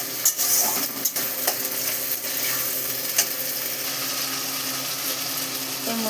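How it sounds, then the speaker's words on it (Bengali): Ginger-garlic paste sautéing in a pan for a fish curry: a steady, close sizzle with scattered scraping and stirring clicks throughout, no voices. "আদা রসুনের পেস্ট পরিমাণ মতন দিয়ে দিলাম, দিয়ে হালকা একটু কষিয়ে নিচ্ছি।"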